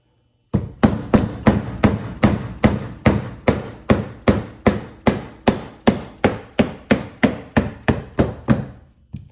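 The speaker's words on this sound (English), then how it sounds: "This is a kind of fancy dead blow hammer." A dead blow hammer taps a sleeve off a 120 mm Cloudwheel donut wheel motor, about twenty sharp, evenly spaced thuds in a steady rhythm, close and alone with no talk.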